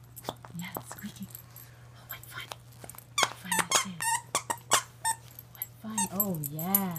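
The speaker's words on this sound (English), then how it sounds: "Oh, it's squeaking." West Highland White Terriers at a birthday gathering squeak a dog toy in short, repeated squeals, with dog noises and people talking nearby.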